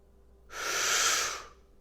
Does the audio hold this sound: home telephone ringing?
no